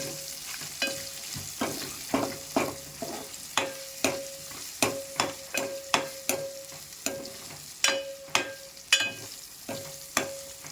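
Mutton fried rice frying in a pan, stirred with a steady run of sharp scraping strokes over a constant sizzle, close and clear, with no talking.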